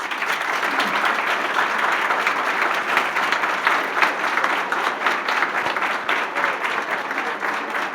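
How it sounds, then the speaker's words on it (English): Sustained applause fills the room at an award luncheon held by a financial nonprofit, many hands clapping in a thick, even wash with scattered sharper claps standing out. "Let's give them one more round of applause."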